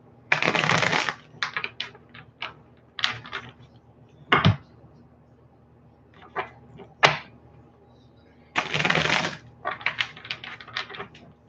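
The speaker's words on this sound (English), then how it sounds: "I'm going to shuffle this 2 more times." Tarot cards being shuffled in several quick riffling bursts separated by short pauses, close and crisp, with no talking.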